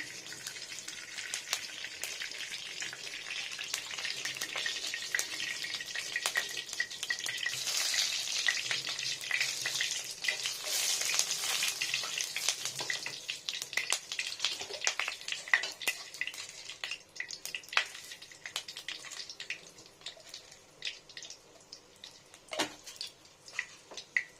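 Chicken coated in mustard oil and turmeric fries steadily in a pan, a dense continuous sizzle with scattered crackles and pops and occasional stirring. It stays close and fairly loud throughout, with no talking.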